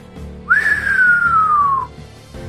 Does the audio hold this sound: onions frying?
no